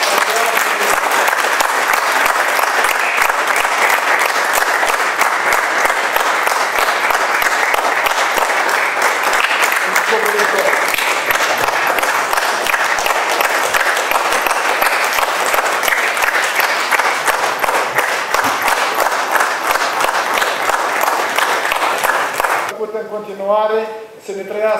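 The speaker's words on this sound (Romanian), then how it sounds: "Aplauze!" Sustained applause from an audience at an academic lecture marking an academician's 85th anniversary, dense steady clapping filling the room for over twenty seconds before fading into a voice at the end.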